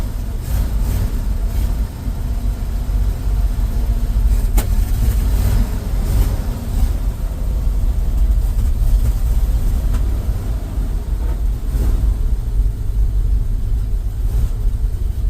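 A Ford F350 truck engine with a carburetor runs and warms up, producing a loud, steady low rumble that stays continuous and close throughout with no voices.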